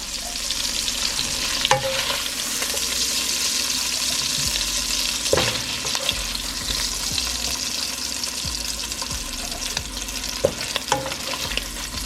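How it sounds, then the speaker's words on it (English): Sausages fry steadily in bacon grease in a pan for a Southern fried cabbage dish, giving a loud, continuous sizzle broken by occasional pops and scrapes, with no one speaking. "So we're gonna allow these sausages to brown"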